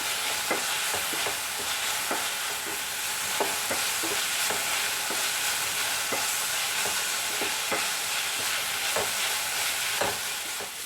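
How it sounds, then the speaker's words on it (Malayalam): Sliced onions sautéing in a pan for chicken curry, a continuous bright sizzle broken by regular scraping clicks of a spoon stirring, close and steady throughout. "സവാള ഒരുപാടങ്ങ് ഫ്രൈ ആവേണ്ട ആവശ്യമൊന്നുമില്ല, നന്നായിട്ടൊന്ന് വാടി വന്നാൽ മതിയാവും"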